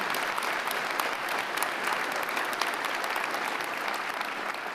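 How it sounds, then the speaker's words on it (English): A large crowd at a college commencement ceremony applauds steadily and loudly throughout, dense clapping with no voices rising above it. "Let's give them another round of applause."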